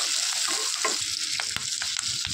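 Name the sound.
onion and capsicum lightly frying for chilli chicken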